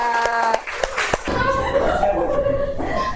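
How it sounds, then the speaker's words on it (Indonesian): A school class claps hands amid voices and chuckles, a short burst of clapping blending into lively chatter and laughter. "Oke, tepuk tangan untuk kita semua."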